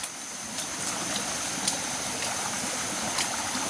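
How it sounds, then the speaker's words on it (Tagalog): A small mountain stream flows with a steady, even wash of water and faint splashes, heard close and alone. "Ito po yung last na sapa."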